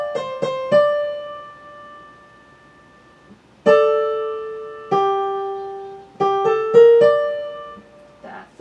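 Solo piano plays the right-hand line of a jazz-rag piece: a few quick clustered notes, then sustained single tones and short chords struck at a relaxed, uneven pace, each ringing and fading cleanly.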